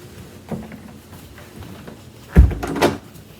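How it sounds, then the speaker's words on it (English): A furnace closet door closes with a soft creak and then a firm thump around the middle, followed by a second lighter knock, close by in a quiet room. "Close the door."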